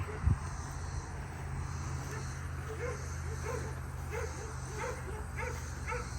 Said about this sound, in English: if I can talk over the neighbor's dogs barking